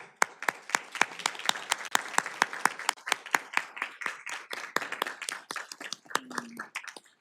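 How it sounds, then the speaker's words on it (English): An audience applauds the judges at a graduate research competition's final night, with sharp individual claps standing out clearly in a sparse, irregular rhythm, more like a smaller crowd, and a short low tone near the end. "please stand so we can applaud you, and thank you very much."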